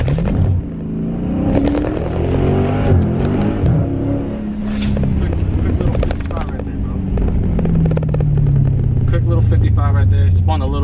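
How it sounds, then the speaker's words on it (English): A Dodge Challenger or Charger Scat Pack launches hard using launch control, its loud engine roaring and revving up with rising and falling tones close by, while people talk over it. "Activate launch control."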